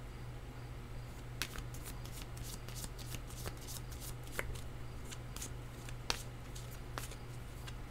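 Tarot cards are shuffled softly and continuously, with quiet riffling and occasional sharper card snaps over a low steady hum, faint and close, without speech.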